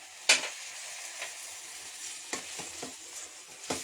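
Vegetables with capsicum, beans, peas and veg masala stirred in a pan, a sharp scrape or clink at the start, then soft sizzling with several brief scraping strokes spaced out, fairly quiet and with no talking.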